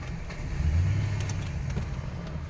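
Low, steady engine hum from a 2012 Chevrolet Impala police car idling, with a slight swell in the middle and faint clicks, no voices.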